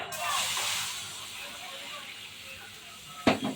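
Water poured into a hot pan on a stovetop hisses and sizzles steadily for a few seconds, close and fairly loud, fading slightly before a brief sharp clink near the end.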